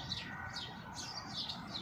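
Sparrows and pigeons gathered at mixed grain feed give off a steady stream of high chirps and tweets, with soft low cooing underneath, fairly close and continuous throughout.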